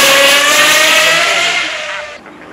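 A McLaren mid-rear-engine supercar roars past loudly at the Goodwood Festival of Speed, its engine note rising and falling as it sweeps by close up, then fading quickly into the distance.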